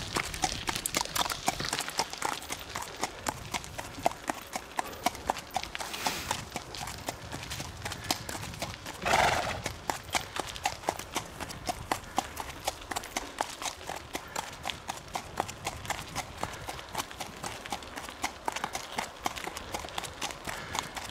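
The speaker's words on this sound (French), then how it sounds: "Il me semble qu'il y a plus de chevaux qui passent qu'au début." Horses on a ride pass by, their hooves clip-clopping in a steady, rapid, continuous patter that stays close and fairly loud throughout.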